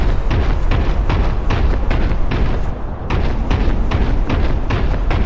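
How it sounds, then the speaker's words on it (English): Heavy armored Space Marine footsteps from the Boltgun video game, a steady run of loud, deep thuds and booms that continues through the whole stretch with no talk over it. "Hence the reason your footsteps sound like this."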